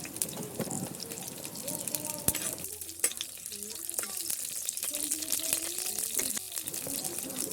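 Cinnamon and cardamom sizzle in hot oil as the tempering for a Tamil-style chicken curry, a bright continuous frying crackle with scattered pops and the scrape of stirring, close and loud with no voices.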